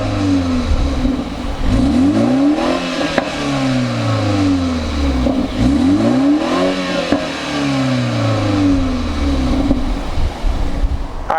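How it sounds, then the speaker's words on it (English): A 2019 BMW 330i with a 2-liter engine revs loudly in repeated rising and falling sweeps, several blips of the throttle in close succession. "let's go ahead and fire up this 330i"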